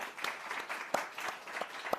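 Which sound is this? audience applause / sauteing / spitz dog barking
audience applause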